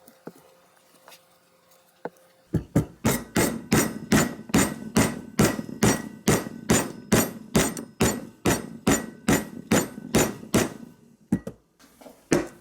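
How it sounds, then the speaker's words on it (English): Repeated sharp taps from a soft-blow hammer push a part onto a 148cc Yard Machines lawnmower in a steady rhythm, about two blows per second, close and fairly loud, then stop. "But I'm going to use a soft blow hammer and push that on."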